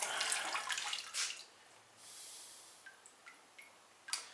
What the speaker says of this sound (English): Let some of the excess droplets drip off.